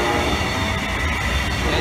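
A Brightline train rushes past up close in Hollywood, Florida, a loud, steady roar of rolling wheels and rail noise through the whole moment, with no talking.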